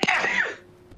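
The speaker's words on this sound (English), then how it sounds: "I took my headphones off for that sneeze" A single short, sharp human sneeze bursts out close and fairly loud, then trails off into quiet within about half a second.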